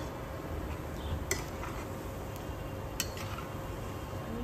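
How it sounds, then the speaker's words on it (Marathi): Kapne, fried sweet dumplings, are stirred in a pan of oil over low gas, with a quiet steady sizzle and a few sharp metallic clinks of the utensil against the pan. "मंद गॅसला सतत अशा ढवळून म्हणजे सगळ्या बाजूनी छान तळल्या"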